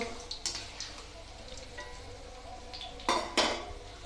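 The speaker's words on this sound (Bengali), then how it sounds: "আমরা এখন সব বড়াগুলো ছাঁকে নিব" Fried Bengali bora fritters are lifted out of a pan with a metal strainer, giving scattered light clinks and scrapes, with two sharper metallic knocks near the end.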